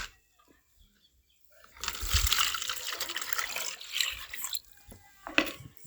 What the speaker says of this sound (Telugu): నువ్వు 2 లీటర్ల నీళ్ళు ఇక్కడ వేసేసాయి.